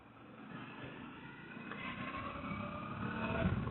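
A 2007 Suzuki V-Strom motorcycle being ridden, its engine a steady mid-range drone that builds slightly under heavy wind rush, heard from the rider's position.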